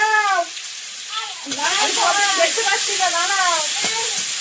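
Bay leaf and ginger crackle and sizzle in hot oil, a steady bright hiss that starts suddenly and continues under a woman's speech.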